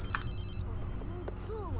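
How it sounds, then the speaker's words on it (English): A phone rings in The Sims 3 with a short electronic trill over quiet game music, and a voice speaks faintly underneath. "I want you to answer your phone, actually"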